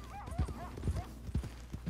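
Horse hooves clip-clop in Red Dead Redemption 2, four evenly spaced thudding steps at a steady walking pace, close and clear, with soft tonal game sounds and a faint voice-like murmur behind.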